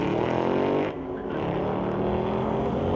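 At a drag strip, a Pontiac races a 2018 5-liter Mustang, engines roaring loudly and steadily, with a brief dip in the noise partway through and no talk.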